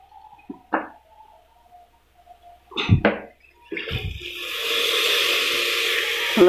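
Chickpeas tipped into a hot pressure-cooker pan for a meatless chickpea curry, with a couple of sharp clatters and splashes, then a loud, steady sizzle that builds and holds to the end.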